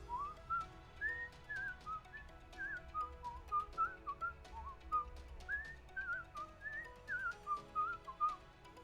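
A person whistles a theme tune, a clear solo melody of short, lilting phrases, close and alone without speech.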